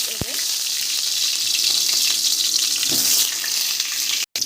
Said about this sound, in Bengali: তেল গরম হয়ে গেছে বেগুনগুলো ছেড়ে